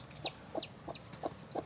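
A broody hen clucks five times in an even rhythm, each cluck short and sharp, fairly close but quiet, with no other sounds beyond a low background hum.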